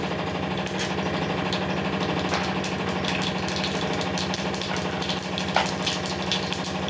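Mustard and cumin seeds with split urad and chana dal spluttering in hot oil for a tomato drumstick curry, a steady dense crackle with scattered sharper pops over a low continuous hum, close and fairly loud, no talking.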